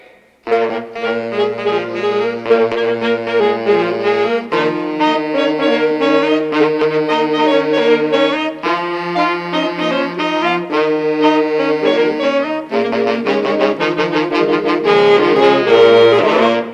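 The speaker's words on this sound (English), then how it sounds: "This is a saxophone. I'm gonna play it." A tenor saxophone section performs a boogie-style song at a high school talent show, a continuous loud run of rhythmic, riff-like phrases with steady beats and brief pauses between sections, no talking over it.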